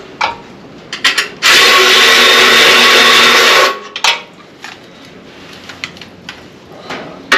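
A power tool whirs steadily for about two seconds while the belt cover bolts come off an Earthquake rear-tine tiller, loud and close, framed by scattered metallic clicks and clunks of handling before and after.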